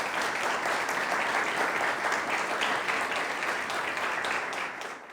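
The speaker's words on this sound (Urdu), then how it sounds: "زوردار تالیاں بجائیں۔" A church congregation applauding loudly, a dense continuous wash of many hands clapping together, close and sustained before tapering slightly at the end.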